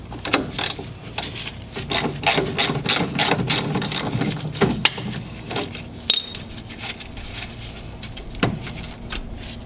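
A ratchet clicks and rasps in quick repeated strokes, loosening a 17mm nut on the front control arm of a BMW E30, with metallic clinks and knocks between pulls, close and fairly loud.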